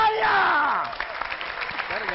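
Audience applause in a Pakistani TV news studio, a broad dense clatter that swells loudly at the start and then thins as a voice talks over it.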